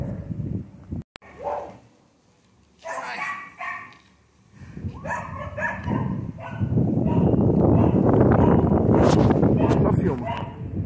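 A one-year-old dog barks in short bursts among people talking nearby, with loud handling noise and strained voices building toward the end.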